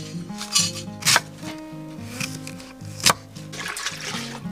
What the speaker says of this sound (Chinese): 放锅倒水